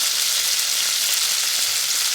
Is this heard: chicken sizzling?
yes